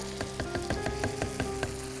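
Whole chicken sautéing in a pan for kosha, a steady oily sizzle with repeated stirring scrapes about every quarter second, close and continuous with no talking.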